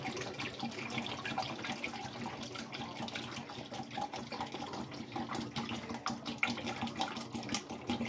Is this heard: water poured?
yes